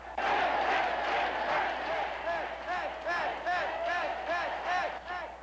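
A large, vocal crowd at an NDP rally cheers and chants loudly in rhythmic waves, with repeated shouted calls rising over the general roar.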